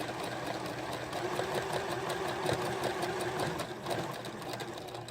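A sewing machine runs steadily in a close, continuous mechanical whir, stitching forward and then back-stitching on a bird puppet feeder project, with no pauses and no talk.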